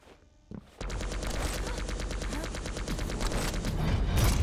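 Rail gun shots from a mech video game in a duel match fire in a fast, even volley of sharp cracks after a brief quiet start, loud and close, building slightly toward the end.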